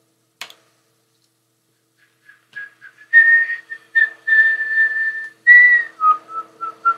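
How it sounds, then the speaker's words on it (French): A person whistles a wandering tune in short phrases and longer held notes, clear and close, with a brief tap at the start and no talking. "Bon, ok, j'arrête de siffler"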